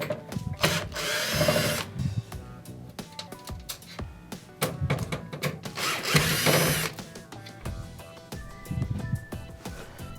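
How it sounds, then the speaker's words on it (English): A power drill backs the two ground screws out of an Ikea oven in two short, whirring bursts. Clicks and handling clatter fill the gaps between them, and it is all heard up close with no talking. "we're going to be removing the 2 ground screws."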